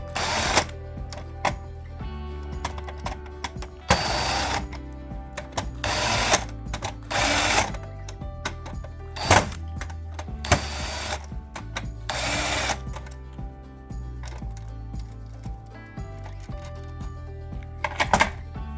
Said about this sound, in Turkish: Vidalarımızı gevşetiyorum.